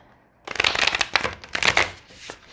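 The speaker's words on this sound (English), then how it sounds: "So what I like to do is shuffle as best I can and then pull one from the middle" A deck of oracle cards is shuffled by hand in a quick, crisp burst of riffling and flicking that lasts about two seconds after a quiet start. It is close and loud, with no talk.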